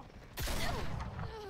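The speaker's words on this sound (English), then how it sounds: "Ooh, she got shot" A single sharp gunshot rings out in a video game, a sudden loud crack with a short ringing tail and faint game sounds trailing after it.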